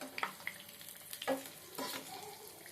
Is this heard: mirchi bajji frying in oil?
yes